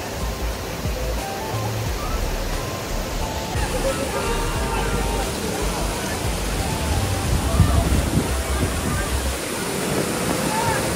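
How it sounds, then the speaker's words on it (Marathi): A monsoon waterfall at Malshej Ghat gives a steady, dense roar of falling water with no breaks. Talk is mixed in quietly underneath. "बघा धबधबा"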